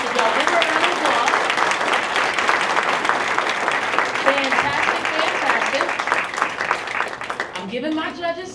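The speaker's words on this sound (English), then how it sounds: "Y'all give her a round of applause." Audience applause after a presentation at a launch challenge pitch event, sustained dense clapping throughout with some voices and cheers mixed in, tapering near the end.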